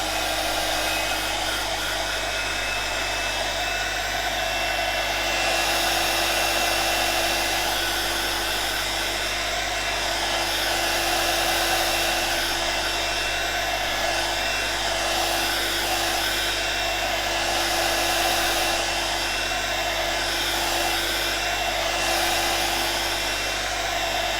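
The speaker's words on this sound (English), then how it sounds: "Let's just dry this a second and see what to do next." Hair dryer blowing on acrylic paint, a loud continuous whooshing hum with a steady tone, running unbroken and close throughout.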